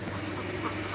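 Brief quacking from a group of laying ducks, soft and close, with a couple of nasal calls over background noise.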